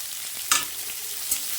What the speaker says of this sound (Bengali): আলুটাকে একটু ভেজে